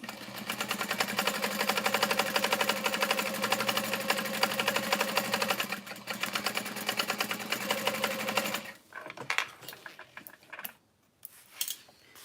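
A sewing machine runs steadily and close for about nine seconds, basting fabric pieces for a bowler hat with a fast, even mechanical whir, then stops and leaves scattered handling clicks and rustles.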